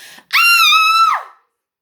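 A woman lets out one loud, sustained scream lasting about a second, close and alone, rising sharply and trailing off at the end, with a short breathy sound just before it.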